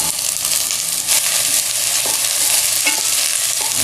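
Potatoes and cauliflower frying in a little oil in a pan, a loud, steady sizzle with no talking.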